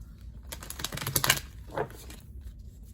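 A quick, close riffle shuffle of a deck of playing cards: a rapid papery flutter lasting about a second, followed by a short soft snap, with no talking.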